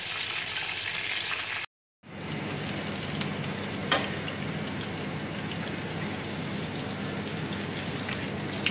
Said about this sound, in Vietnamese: Khi mà thịt đã vàng đều hai mặt thì mình bắt đầu cho lửa nhỏ hơn để thịt giòn.